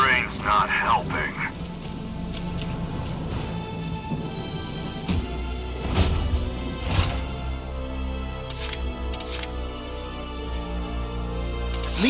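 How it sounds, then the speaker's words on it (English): Steady rain in the video game Valkyria Chronicles 4 hisses throughout as a dense wash, mixed with game music, low rumbles and a few sharp effects, with voices speaking over it. "The rain's not helping."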